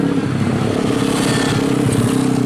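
A Vespa Extreme scooter runs at a distance, with a continuous buzzing, slightly rattling engine drone that holds steady throughout and sits low and rumbling under a wash of outdoor noise.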